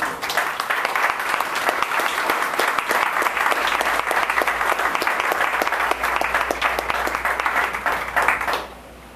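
Warm applause from a public forum audience greets a bishop taking the floor, loud and dense for about eight seconds before cutting off abruptly near the end.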